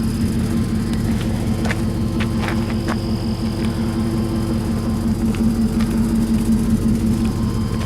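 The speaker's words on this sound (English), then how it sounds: "Sounds like my exhaust's got a leak in it right there at the muffler." A 1999 Chevrolet Tahoe engine idling with an exhaust leak at the muffler, a steady low rumbling drone with a faint puffing ticking throughout, close and continuous with no talk.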